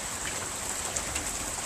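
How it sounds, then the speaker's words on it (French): Hail pelting down during a thunderstorm in the Rhône-Alpes, a dense, steady hiss of countless small impacts with a few slightly louder hits, close by and with no voices. "On a la grêle. C'est parti. La grêle est de retour."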